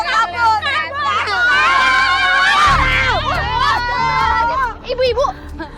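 Several people, women and children among them, shrieking and crying out together in a loud panicked outburst that builds and holds, with excited chatter mixed in throughout.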